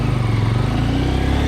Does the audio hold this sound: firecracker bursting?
no